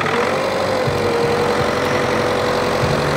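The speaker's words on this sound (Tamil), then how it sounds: "இன்ஜின் நாய்ஸ் நீங்கள் பார்த்துக்கலாங்க ஓவராலாகவே." A used diesel car with about 106,000 km on it idles close to the microphone, a loud steady rumble with a faint knocking clatter throughout, without speech.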